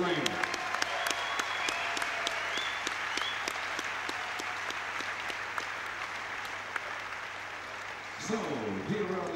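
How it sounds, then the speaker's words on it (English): Sustained applause for kickboxing fighters in the ring, dense steady clapping throughout, with a voice breaking in near the end. "can we have a round of applause, please, for the Warriors in the ring?"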